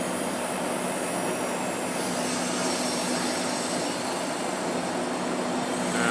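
Danfoss Maneurop refrigeration compressor running in a cold room, a steady, loud broadband hum and whir with a faint tonal drone, continuous and unchanging.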